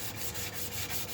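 A late-'60s Stratocaster guitar body is sanded by hand in a shed, with steady, close rubbing strokes in an even back-and-forth rhythm, about five passes and no talk.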